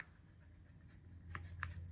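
Pen writing on paper while a math problem is solved, a faint soft scratching with a couple of brief sharper strokes near the end, quiet and close with no talking.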